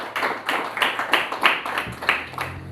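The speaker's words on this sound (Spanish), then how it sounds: "dele palmas al Dios del cielo" Rhythmic clapping from a church congregation, steady beats roughly every half second, mid-loud and close, with low music or hum entering toward the end.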